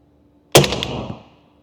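A single sharp 300 Blackout rifle shot cracks out loud and close at an outdoor range, its blast decaying over about a second into a short echoing tail.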